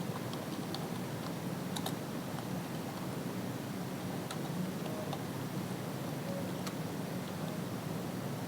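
Quiet, steady typing on a computer keyboard, light irregular key clicks over a soft background hiss, with no one talking.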